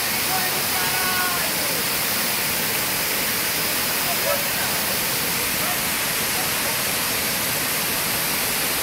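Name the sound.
waterfall at Véu da Noiva during rappelling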